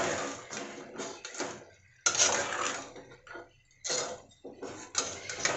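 Spatula scraping and stirring pea and potato curry in a pan, scattered bursts of clatter and scraping with short pauses between strokes, close and fairly loud, no talking.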